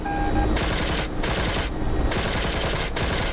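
Rear gunner's machine gun in the DCS flight simulator, set in a 1999 Operation Allied Force air battle with Yugoslav transport helicopters, fires three loud sustained bursts separated by short pauses over steady aircraft engine drone.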